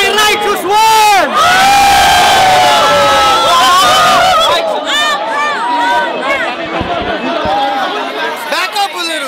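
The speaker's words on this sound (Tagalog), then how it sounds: "mag-ingay para kay Righteous One!" A dense crowd at a Filipino street rap battle roars, whoops and shouts continuously, loud and close, with overlapping voices swelling and dipping.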